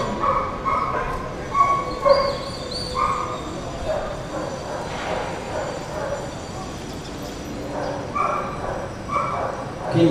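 A dog barks and yips during a dog training trial at an airfield, with short bursts scattered through the stretch, mixed with background talk and crowd noise.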